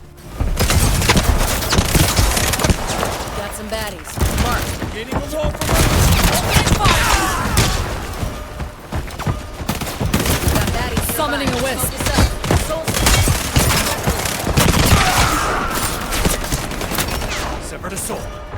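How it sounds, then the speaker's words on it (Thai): Dense, rapid bursts of gunfire in the shooter game Highguard crackle nearly nonstop with booms and thuds, loud and chaotic, mixed with game sounds. "ก็เรียกได้เลยว่ายิงกันนัวมากๆฮะในเฟสนี้"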